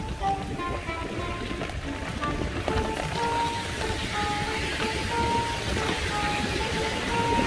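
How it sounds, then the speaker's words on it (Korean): Heavy rain falls during a scooter trip on Jeju Island, a dense steady hiss of downpour that stays fairly even throughout, with faint background sounds mixed in. "비 너무 많이 온다"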